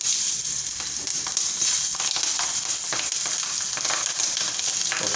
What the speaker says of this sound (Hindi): अब हम इसके अंदर हरी मिर्चें फ्राई करेंगे।